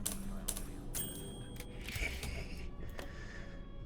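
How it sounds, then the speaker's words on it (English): Rapid clacking of a typewriter in the stealth game Dishonored 2, with sharp keystrokes and small mechanical clicks repeating over a low ambient hum, moderately close and steady throughout. "Oh, you're a typewriter."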